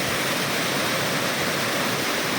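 A waterfall on Khao Phu Tabaeng roars in a steady, dense, loud rush of falling water, unbroken and close, with no voices over it.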